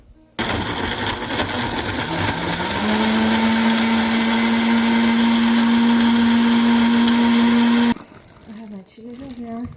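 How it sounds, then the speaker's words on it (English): A kitchen blender whirs steadily with green chilies inside, a loud continuous motor drone that holds a rising pitch for several seconds before cutting off abruptly. "So I'm going to turn on the blender."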